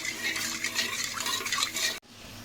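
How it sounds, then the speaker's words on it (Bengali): Sugar and water being stirred into a syrup in a pot for papaya morabba, a continuous close scraping swirl of the spoon that stops abruptly near the end. "ভালো করে নেড়ে নেড়ে চিনি শিরাটা বানিয়ে নিতে হবে"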